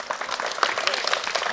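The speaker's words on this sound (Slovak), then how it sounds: "Potlesk." Applause from a crowd at a school tournament award ceremony, a dense steady patter of clapping across the whole moment with no break.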